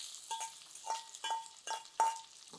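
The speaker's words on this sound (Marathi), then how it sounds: "आता यामध्ये हा उभा चिरलेला कांदा घालूया" Sliced onion hitting hot tempering oil with red chilli, asafoetida and curry leaves for Udupi sambar, giving five close bursts of sizzling and stirring spaced about half a second apart.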